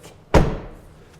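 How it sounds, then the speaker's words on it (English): The door of a 1973 BMW 3.0 CSi coupe swings shut with a single solid, close thunk, followed by a short decaying resonance and quiet background. "And the doors close as they should."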